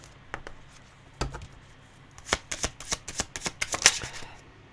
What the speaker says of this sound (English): Oh, I'm struggling to pick up my cards.